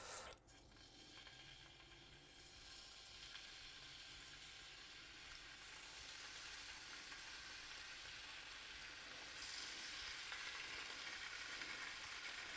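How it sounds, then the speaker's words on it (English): Cubes of paneer frying in hot oil in a pan, a soft steady sizzle with light crackling that grows slightly brighter toward the end, with no voices. "in here we're going to be frying up paneer, just going to be giving it a nice golden colour"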